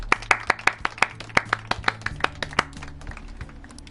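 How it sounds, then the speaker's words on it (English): A small group claps in sharp, distinct strikes, a dozen or so quick slaps that thin out and fade after a couple of seconds, with a low musical hum underneath. "Round of applause, everyone"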